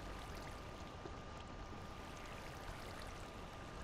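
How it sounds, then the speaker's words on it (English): Steady trickling water dripping in a Minecraft game world, a continuous close, even wash of small drops with no voices over it. "So if you stand here, you get drippy drip drip on your head"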